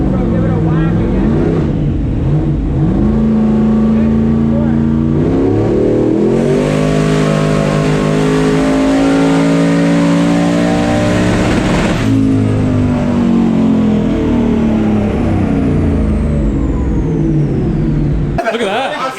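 A turbocharged stock-bottom-end 5.3 V8 with a cheap Chinese turbo revs hard, a loud sustained roar that climbs in pitch, holds and falls, with turbo whine and a sharp cut at the end.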